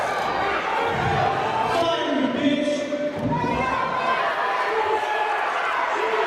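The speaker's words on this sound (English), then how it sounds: "this crowd is livid right now. They're letting them know." An angry arena crowd at a live wrestling-style event roars and jeers at a performer. The steady crowd noise sits under a commentator's excited talk, with occasional thuds.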